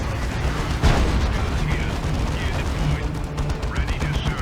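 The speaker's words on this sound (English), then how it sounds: "some of those rockets missed, it seemed." A rocket barrage in a Warhammer 40k Dawn of War 2 Retribution battle between Orks and another army: a dense, continuous roar of launches, blasts and gunfire, with a louder burst near the start.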